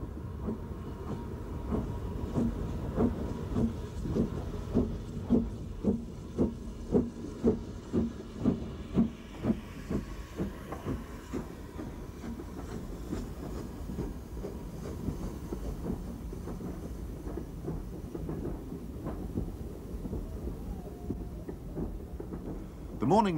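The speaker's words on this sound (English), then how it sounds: "number 75078 leaves Bury with the first train of the day" BR Standard Class 4 steam locomotive 75078 pulls away from Bury station on a misty morning with the first train, its exhaust beats coming in a steady, gradually spaced rhythm with a low rumble and hiss, moderately distant, no voices.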